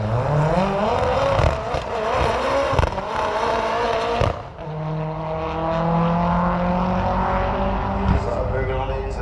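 Front-wheel-drive drag racing cars at Santa Pod Raceway roar loudly at close range, with high-revving engines rising in pitch and then a second car accelerating away, and crowd noise underneath.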